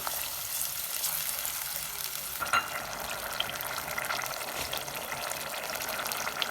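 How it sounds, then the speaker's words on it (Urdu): Tomato and onion paste with garlic ginger paste fries in a pan over medium-low flame, giving a continuous close sizzle with a few stirring scrapes. "لہسن ادرک کا پیسٹ ایڈ کرنے کے بعد یہ ٹماٹر اور پیاز کا پیسٹ ایڈ کریں گے۔"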